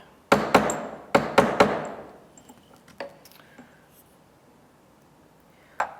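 Several sharp metallic hammer strikes on a dapping tool, rotated while shaping a metal circle, in quick clusters, ringing briefly, then a few lighter taps and one more strike after a pause.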